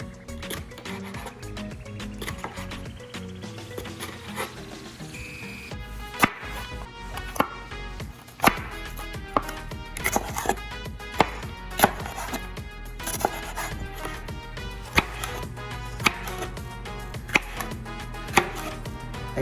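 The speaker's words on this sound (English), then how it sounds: "Put them aside and we'll just cut some small slices." A knife slicing small sweet peppers on a cutting board, with irregular crisp chops and taps growing more frequent over quiet background music, no talking.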